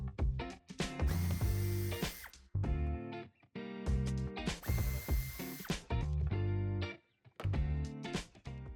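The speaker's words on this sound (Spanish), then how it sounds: "no sin antes quitar dos tornillos que lleva en el pase de ruedas" A power tool or ratchet whirs in several short bursts close up while taking out screws from the wheel arch trim of a 2021 Volkswagen ID.5, with brief clicks and pauses between runs.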